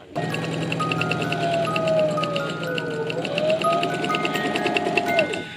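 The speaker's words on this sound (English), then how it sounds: "Now we're just going to sew it all the way down." A sewing machine runs steadily for several seconds, stitching fabric into a scrunchie, with a dense mechanical whir and rapid ticking needle rhythm throughout, close and fairly loud.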